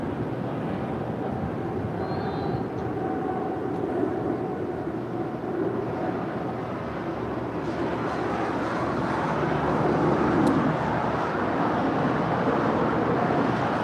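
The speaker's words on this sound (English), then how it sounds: "That was Air France Flight 65 departing to Paris. It's a 777-300 ER." An Air France Boeing 777-300ER departing LAX sends a broad, distant jet roar across the airfield that holds steady and swells slightly louder toward the end.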